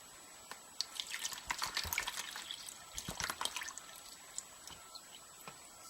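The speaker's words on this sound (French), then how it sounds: "l'eau chaude dans le tupperware" Hot water trickles and drips into a plastic tupperware, giving quiet, irregular splashing and dribbling that swells in the middle and then thins to a few scattered drops.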